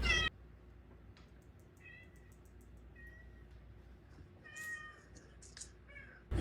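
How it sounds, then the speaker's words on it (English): A cat locked downstairs in a basement meows repeatedly from behind the door, several short muffled cries spaced out over a quiet room hum, faint and distant. "she's just meowing because she wants me to open the door for her"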